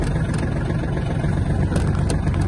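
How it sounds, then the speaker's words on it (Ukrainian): A Yanmar EF-222 Japanese mini tractor idles as it warms up, giving a steady, close diesel rumble with a slight even pulse and no talk over it. "поки трактор трохи прогрівається"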